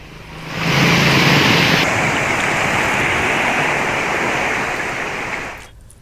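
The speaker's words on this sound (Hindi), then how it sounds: "सड़कों पर बारिश की तेज धार बहने लगी।" Heavy rainwater rushing as a torrent through knee-deep flooded streets of a railway colony in Dangua Posi, a loud steady broadband roar that swells in, holds for several seconds and then cuts off.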